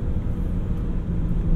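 A 2008 BMW 328i with an aftermarket intake, heard while driving, gives a steady, deep engine rumble with road noise from inside the car, continuous and moderately loud with no talking.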